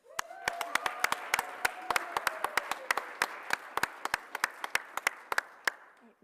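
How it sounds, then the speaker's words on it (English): Audience at a college honors program annual awards ceremony applauding, a scattered round of individual sharp claps with a soft crowd clapping bed underneath, steady for several seconds with no talk. "So I would love to give them a round of applause and welcome them into our honors family that much deeper."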